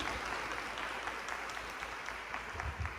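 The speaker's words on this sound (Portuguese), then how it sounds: "Vamos aplaudir Jesus pela vida da pastora Helena." A church congregation applauds during a worship service, a steady, dense wash of clapping from a room full of people, sustained and fairly even throughout.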